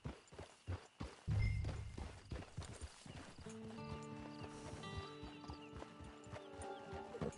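Horse hooves clip-clop in the video game Red Dead Online as the horse comes to a stop, with clear hoof beats followed by faint ambient tones and music.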